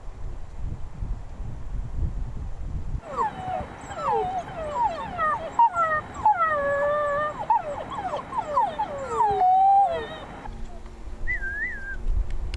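Young wolf cubs raised in Mongolia whimper and yip in a run of high, sliding cries that swell into short howls, close and fairly loud, before falling quiet into a single faint whine.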